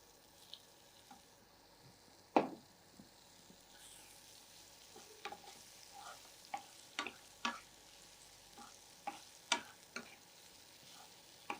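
Potatoes frying in oil with a pinch of garam masala for aloo capsicum produce a quiet, low sizzle. Scattered crisp pops and a few louder spatters sound at irregular intervals.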